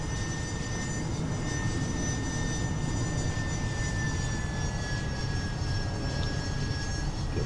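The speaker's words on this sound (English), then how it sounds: "Let's bring the aircraft over there and pick it up, put it back onto the ship" A Carrier Command video game aircraft flies with a constant, even engine drone and a thin high whine held steadily throughout, with no talking.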